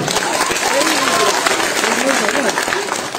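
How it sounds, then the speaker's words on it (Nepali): An audience at a talent hunt show in Pedong applauds with a dense, steady clatter of clapping, and a voice speaks over it throughout. "जोरदार ताली दिनुहोस् उहाँहरूको निम्ति।"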